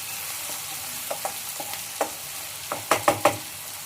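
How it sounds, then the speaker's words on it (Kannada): Tomato and onion fry in a pan for a green banana dry curry, giving a steady low sizzle with a few sharp stirring scrapes that grow louder and closer near the end; no one speaks. "ಟೊಮೊಟೊ ಎಲ್ಲ ಚೆನ್ನಾಗಿ ಸ್ಮ್ಯಾಶ್ ಆಗಬೇಕು, ಸಾಫ್ಟ್ ಆಗಬೇಕು, ಅಲ್ಲಿವರೆಗೂ ಫ್ರೈ ಮಾಡ್ಕೊಳ್ಳಿ"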